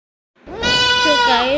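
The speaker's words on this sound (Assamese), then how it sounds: "ছাগলীটো চিঞৰি আছে" A single drawn-out bleat from a young goat with a badly broken leg at a veterinary clinic, loud and close, wavering in pitch and rising after a brief silence.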